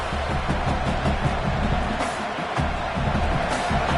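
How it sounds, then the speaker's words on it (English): Football stadium crowd at a Canadian Football League game, Edmonton Elks at the Saskatchewan Roughriders, rising on a third-down defensive stand: a steady, dense roar that fills the whole stretch without letting up. "Decibels rising as the crowd gets behind this defense on 3rd down."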